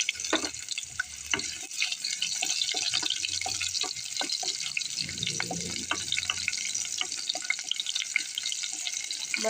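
Garlic and sliced onion frying in hot cooking oil for squid adobo, an uneven sizzle with crackles and pops, close by, with a few stirring scrapes and no talk.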